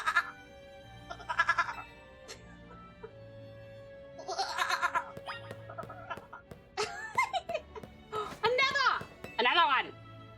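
A person mimics a lamb bleating with a string of wavering, nasal baa cries that grow louder and more frequent toward the end, mixed with laughter and chatter from others nearby.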